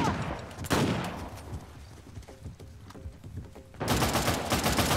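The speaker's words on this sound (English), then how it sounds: "But it's hard with the shotguns." Shotgun gunfire in the video game Uncharted: The Lost Legacy, with sharp blasts and bursts of fire amid a busy firefight, a loud rolling barrage returning near the end, and a voice heard faintly.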